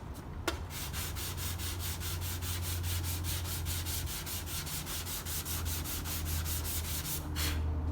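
Worn-out 400 grit sandpaper rubs over an aluminum repair in steady, rapid back-and-forth strokes, a close, continuous rasping scrape with no voices.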